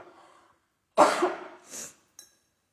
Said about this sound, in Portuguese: então eu vou ter que parar e dar uma tossida